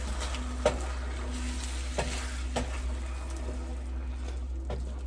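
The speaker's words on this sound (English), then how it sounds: "So I'm going to stir this in here." Meat lasagna sauce being stirred in a pot, with soft scraping strokes of a spoon and a faint simmering hiss underneath, a few sharper knocks spaced through the steady low background.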